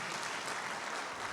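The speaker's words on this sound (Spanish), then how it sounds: "Por favor, un aplauso para la doctora Ana Elena." A studio audience applauds a guest on a talk programme, a dense steady clatter of many hands clapping alone, with no speech over it.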